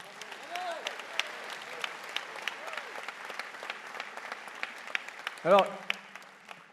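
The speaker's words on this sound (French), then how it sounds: "je voulais que vous applaudissiez" An audience at a French right-wing political meeting applauds steadily, with sustained crowd clapping throughout, then a brief voice and a short sharp sound near the end as the clapping fades.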